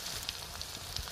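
Garlic and chili hit hot oil in an already heated kadai, giving a close, continuous crackling sizzle with small pops scattered through it.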